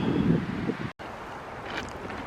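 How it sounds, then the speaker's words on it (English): Wind gusting against a DD tarpaulin strung up in a forest during wind and hail, a steady broad rushing with a strong low buffeting at first, then a brief dropout and a softer continuous blustery hiss. "It's catching the wind quite well there, look."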